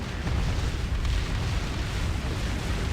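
Missiles explode in the space strategy game Distant Worlds, a dense, continuous low rumble of blasts blending into one steady roar throughout, with no distinct separate booms.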